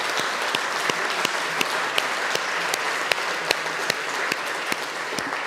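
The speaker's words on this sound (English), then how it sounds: "One more round of applause." Audience at a science pitch competition finale applauds steadily, a dense wash of many hands with sharp individual claps popping out, sustained and fairly close throughout, with no talking.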